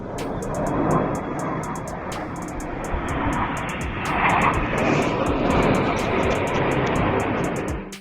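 A fixed-wing airplane's engine roars steadily and loudly for several seconds, swelling slightly midway, with a broad rushing drone and repeated sharp ticking clicks over it.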